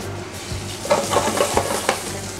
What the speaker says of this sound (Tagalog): Now we will saute our prawns and yung ating squid.